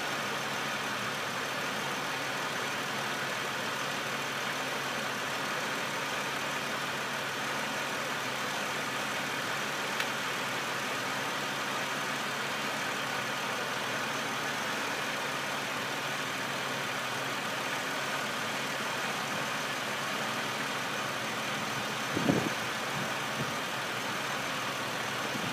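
A 2003 Buick Century with a 3.1 engine idles steadily and evenly at a moderate level, with one faint thump near the end and no speech.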